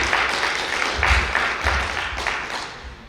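Audience applause welcoming a director at a team fest event, a steady wash of clapping from a modest crowd that swells and ebbs without talk over it.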